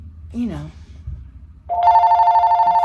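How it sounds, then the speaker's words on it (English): An office desk telephone starts ringing with a steady electronic trill near the end, after a brief spoken word and a soft thud. "my office phone is ringing"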